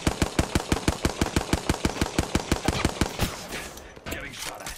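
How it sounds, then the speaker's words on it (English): Rapid automatic gunfire in the shooter game Apex Legends: about twenty sharp, evenly spaced shots in a loud burst, then a short trailing blast and fainter game noise afterward. "Getting shot at."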